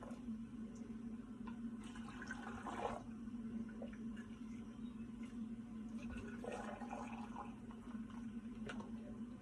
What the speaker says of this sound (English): I just fill my jars the rest of the way with brine.